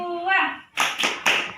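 A group of women at a family-capacity learning session in Indonesia performs the Tepuk P2K2 clapping chant, with a voice rising in pitch, then three sharp, loud claps in rhythm close by.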